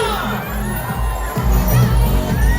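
A large evening crowd packs C.M. Recto street in Davao City, making a steady wash of babble with scattered cheers and shouts rising and falling.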